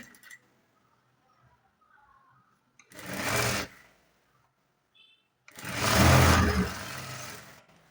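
A sewing machine stitches a garment in two separate bursts of loud, close whirring, a short run then a longer one, with near silence between them.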